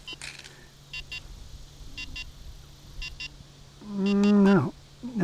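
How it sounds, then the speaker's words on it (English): RC transmitter giving off short paired electronic beeps at intervals, with a louder warbling tone burst near the end, over a low steady hum. "And we got a beeping transmitter,"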